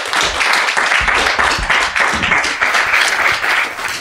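Loud, dense audience applause fills the room without pause as a guest is welcomed on stage at a French YouTube evening show, steady clapping from a large crowd with no talking over it.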